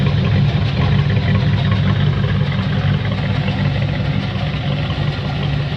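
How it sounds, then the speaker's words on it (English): A Ford Fox body car idles with a distinctive exhaust note, a steady deep low rumble that is close and loud and runs evenly from start to finish with no talk. "probably one of the most unique exhaust notes you've heard on a Fox"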